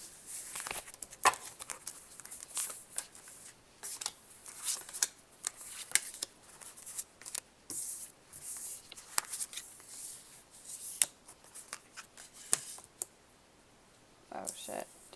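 Tarot cards shuffled and handled during a card reading, a quiet run of soft riffling snaps, flicks and clicks scattered irregularly throughout, close and alone.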